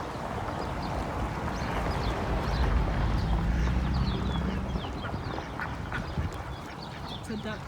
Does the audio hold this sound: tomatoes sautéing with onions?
no